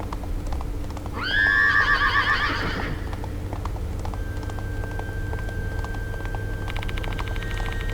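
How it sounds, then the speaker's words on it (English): A horse in the video game Spirit Hunter: Death Mark II lets out a loud, drawn-out whinny near the start, while galloping hoofbeats clop on steadily beneath a constant low background rumble. "They saw a huge horse running their way."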